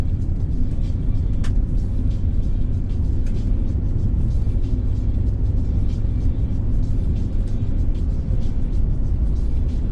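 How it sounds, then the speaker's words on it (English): A Toyota 4Runner pulls away across wide open western Kansas country, its engine a steady low rumble that holds at an even level throughout, with a few faint ticks high above it. "A 4Runner driving off into the sunset."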